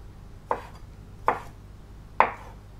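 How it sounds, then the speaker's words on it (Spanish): Three separate knife chops on a board, spaced about a second apart, as medium prawns are cut for a seafood paella; close and crisp with nothing else around them. "Picamos las gambas medianas"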